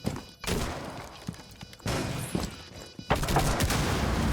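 Bursts of rapid gunfire in Rainbow Six Siege as a player shoots at the operator Ash through a wall: several loud, sharp volleys with short gaps, dense and close, alone without talk.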